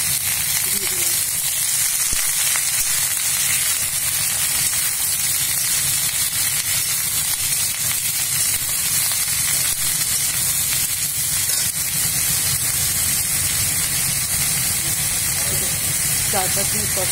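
Mixed vegetables sizzling and frying in oil in a pan for a Bengali dish, a steady loud hiss throughout.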